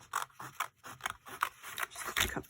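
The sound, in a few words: scissors cutting paper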